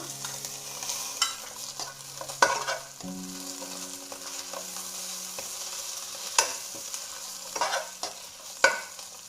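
Chicken pieces roasting in a pan with coriander leaves added for a chicken cutlet filling, a low steady sizzle broken by several sharp spatula scrapes and clinks as it is stirred, close by.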